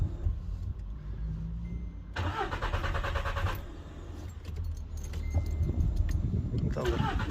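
A Volkswagen Polo with a suspected faulty relay cranks and starts during a repair check. A loud, rough burst of cranking and engine noise lasts about a second and a half and is preceded and followed by idle rumble, clinking keys and nearby voices.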